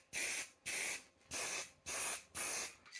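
Blue spray paint goes onto fiberglass fairings for a Yamaha XS400 cafe racer in five even hissing bursts, each about half a second long, separated by short pauses.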